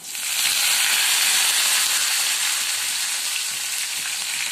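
Cumin seeds, onion and curry leaves fry in a pan with a loud, steady, dense sizzle that swells in quickly and holds close and constant throughout, with no voices.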